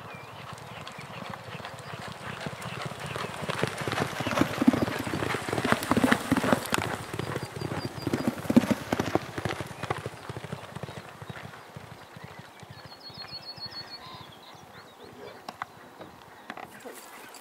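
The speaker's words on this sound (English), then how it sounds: "he's chasing a horse that's rated nearly 40 pounds superior to him, Sutton Veney, who works superbly." Racehorses galloping during a race, a fast drumming of hooves that swells toward the middle, heard under an excited commentator calling the race.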